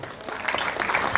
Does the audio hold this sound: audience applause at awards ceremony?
yes